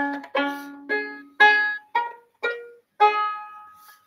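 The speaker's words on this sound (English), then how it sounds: "Pizzicato just means plucking." Violin strings plucked pizzicato: seven short, separate plucked notes at an uneven, unhurried pace, each decaying quickly, close and clear with no talking.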